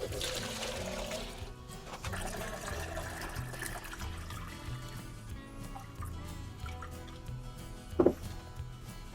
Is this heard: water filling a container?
yes